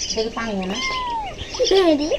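A small kitten at a village home gives a run of several high, wavering meows, close and fairly loud, with short pauses between cries.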